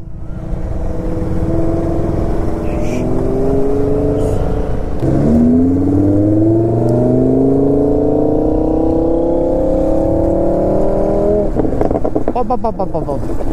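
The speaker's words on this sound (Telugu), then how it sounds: "లంబోర్గినీస్ పోతున్నాయి, మేము కూడా పోతున్నాం." Lamborghini sports cars rev hard and pull away, their engines rising in pitch in long sweeping climbs, loud and close, with a fresh surge near the end as another car accelerates.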